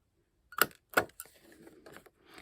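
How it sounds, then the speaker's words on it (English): Two sharp punches snap through paper for a lap book, close and crisp, followed by softer rustling and handling of the sheets. "now we'll punch the holes"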